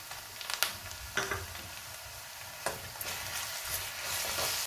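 Onions and ginger-garlic paste fry in a pan for masala chicken, producing a continuous crackling sizzle broken by several crisp scrapes and taps of stirring.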